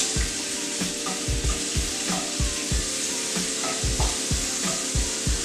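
Shrimp sizzle steadily in a frying pan while a utensil scrapes and taps the pan in an irregular rhythm as the pieces are turned, close up and with no talking.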